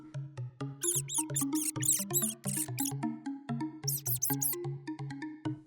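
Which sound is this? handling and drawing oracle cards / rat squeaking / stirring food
rat squeaking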